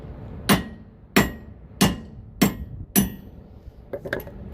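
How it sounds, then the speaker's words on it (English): Five sharp, evenly spaced hammer blows ring out close up as a wheel stud is driven out of a hub with a nut wound on, each strike metallic with a short decay, followed by faint clinks. "A couple of sharp hits will spike load the stud and push it out."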